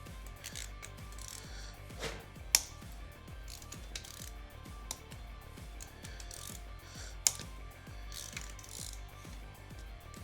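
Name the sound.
ratchet loosening rocker arms on Silverado engine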